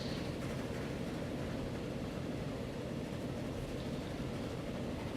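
A steam-era 1920s train rumbles along in the Transport Fever simulation game, a steady, dense low roar with no breaks, moderately quiet and heard alone without talk.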